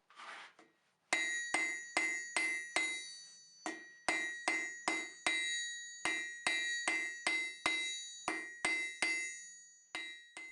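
A hammer strikes a nail being hand-forged on an anvil, ringing blows in quick bursts of two to four with short pauses, bright metallic clangs close and loud with no voices.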